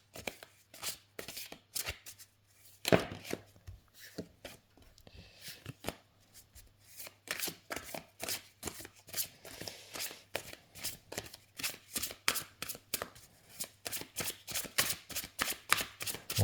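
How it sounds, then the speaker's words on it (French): Oracle cards being shuffled by hand, a long run of crisp riffling slaps that come faster and denser toward the end, close and clear with no speech. "Donc les cartes se mélangent très très bien. Elles ne collent pas entre elles."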